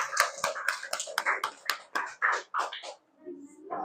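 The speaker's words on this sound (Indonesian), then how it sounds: "Tepuk tangannya dulu dong." A small group of schoolchildren in a classroom gives a short round of scattered hand claps, sharp separate slaps fading out toward the end with a few children's voices.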